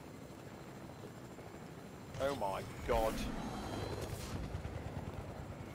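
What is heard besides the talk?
helicopter flying overhead in a video game (Fortnite)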